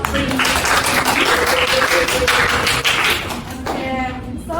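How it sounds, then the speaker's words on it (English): A classroom claps for the top three students of a maths quiz, with close, brisk clapping mixed with a few voices that thins out toward the end. "Please give applause to our top 3."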